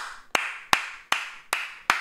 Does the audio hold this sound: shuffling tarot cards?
no